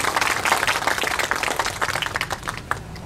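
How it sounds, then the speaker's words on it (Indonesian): A crowd applauds a farmer group at an outdoor rice variety field day, with dense, steady clapping that fades slightly toward the end. "tepuk tangan untuk kelompok tani ini"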